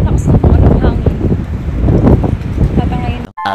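Strong wind buffeting a microphone outdoors at night near Tokyo Tower, a loud continuous rumbling roar with gusts, a person talking over it, and a sudden cut near the end.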